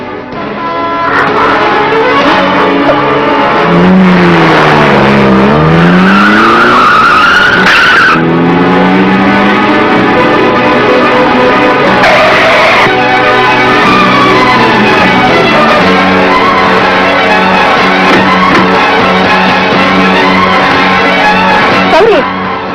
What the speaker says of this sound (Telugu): కార్ డ్రైవ్ చేస్తూ కొండ పక్కన వెళ్తుందమ్మా.